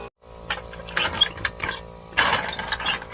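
A Harbor Freight 2.5 ton floor jack works under a fifth-wheel trailer axle, giving short ratcheting, clanking mechanical bursts in uneven strokes, close and fairly loud.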